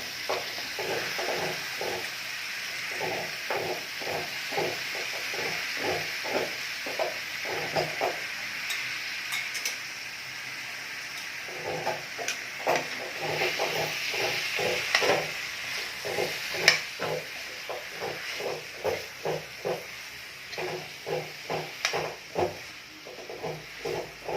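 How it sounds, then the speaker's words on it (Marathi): Potato and brinjal being stir-fried in hot spiced oil on high flame, a steady sizzle with repeated rhythmic scraping and stirring strokes throughout, close and moderately loud, with no talking. "हे पण व्यवस्थित परतून घ्यायचं बटाटा आणि वांगे"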